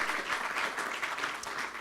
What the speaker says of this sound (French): On applaudit ce message, on applaudit ce prix.